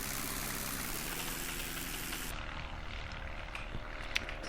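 A Hunter X-Stol RC model airplane runs its propeller engine at full throttle with a steady, broad buzzing drone that eases slightly partway through, heard from a moderate distance with no talking.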